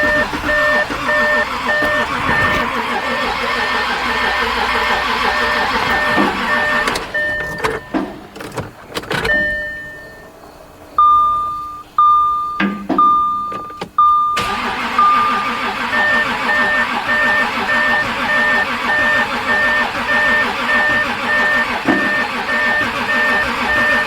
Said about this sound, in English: So as you can hear, the engine is running.